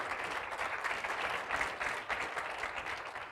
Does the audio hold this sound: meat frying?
no